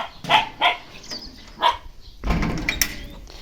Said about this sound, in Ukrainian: О, на кого ти гавкаєш? На чорного кота.